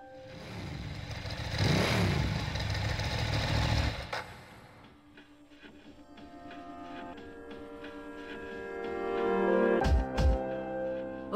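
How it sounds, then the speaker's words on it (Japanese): In the Persona 3 Portable game, a motorcycle engine rumbles loudly as it arrives, then settles into a steady humming idle, with a brief louder burst near the end. "バイク。"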